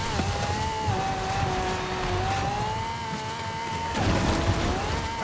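The Lamborghini Centenario's engine drones steadily in a head-to-head race in a video game, holding an even pitch with small shifts and a brief dip before climbing again near the end.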